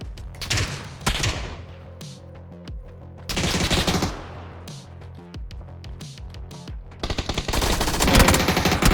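Bursts of rapid automatic gunfire in a PUBG firefight, loud and close, coming in several clusters with short gaps between them and a long sustained volley at the end.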